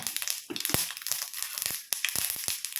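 Mustard seeds and a pinch of fenugreek spluttering in hot oil for a Kerala king fish curry: dense crackling with sharp irregular pops close up, steady throughout with no talking.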